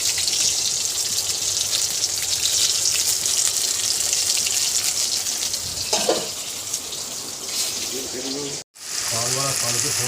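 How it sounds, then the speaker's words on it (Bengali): Fish curry boils in a pot on a home kitchen stove, giving a steady close bubbling and sizzling hiss that runs throughout, broken by a brief drop near the end. "মাছের ঝোল ফুটে গেছে"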